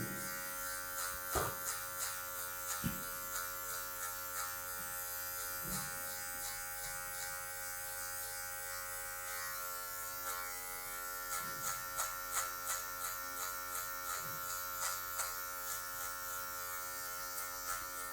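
An electric hair clipper buzzes steadily as it cuts a graduated fade, its constant close drone marked by regular soft pulses where the blade tip passes through the hair.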